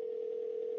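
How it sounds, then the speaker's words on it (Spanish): A telephone tone in the video game The Walking Dead: A New Frontier: one steady, unbroken electronic tone held at a fixed pitch for just under a second, clear and alone. "Un teléfono."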